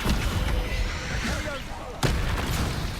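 The Descendo spell cast during combat in Hogwarts Legacy: a heavy booming slam amid rumbling impacts and whooshes, with a second sharp hit near the end, all under a speaking voice.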